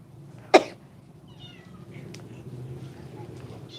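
A single short cat meow stands out over a low background hum aboard a cat boat in Amsterdam, followed by quiet room noise.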